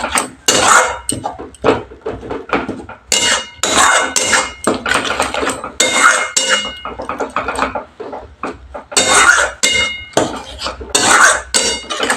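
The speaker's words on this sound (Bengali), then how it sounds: "এবার আমি ভালো করে মশলাটাকে অনেকক্ষণ ধরে কষিয়ে নেব" Masala for Bengali Bhola fish curry scraped and stirred in a metal pan, with repeated clattering strokes of a spatula against the pan over a steady low sizzle, close and fairly loud, with no talking.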